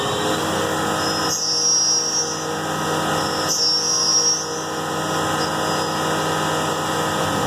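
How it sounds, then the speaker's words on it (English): A 5/16 end mill on a milling machine cuts a counterbore for socket head cap screws, spindle at 10,000 RPM, giving a steady close mechanical whine with a high singing tone that swells twice. "Now we come in with the 5/16 end mill to do the counter bore for the socket head cap screws."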